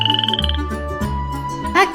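Frogs croak at a watering hole in a steady, close chorus that fills the whole stretch without pause, with no voices over it.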